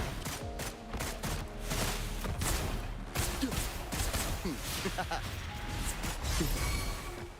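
Rapid bursts of gunfire in the video game Wuthering Waves, dense and continuous across the whole stretch, with crashing impacts and mechanical clatter layered over game sounds.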